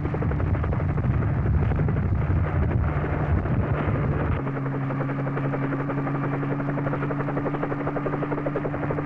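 Helicopter taking off near space launch areas at Cape Canaveral for an aerial tour, a loud steady rotor roar with wind rumble whose engine pitch shifts partway through, close and with no voices.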